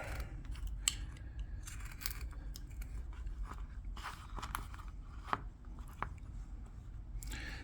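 A small knife cuts and shaves a wood piece while carving an open book, with repeated crisp scraping and snipping strokes up close, irregular and fairly steady throughout.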